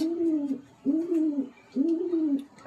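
A Kolkata blood line pigeon held in the hand gives three slow, close, throaty coos in a steady rhythm, each a low rolling call, with no talking over it.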